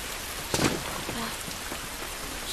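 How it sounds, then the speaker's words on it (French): Steady rain falls outdoors as a dense, even hiss, with a brief louder splash or gust near the start and faint movement beneath. "Cette pluie ne va pas nous aider."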